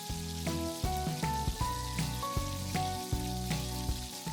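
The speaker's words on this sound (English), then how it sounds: "Let's drop small sections of the batter into the hot oil." Small portions of moong dal pakora batter dropping into hot oil, giving a steady crackling sizzle with soft bursts as each piece goes in, close and continuous with no talk.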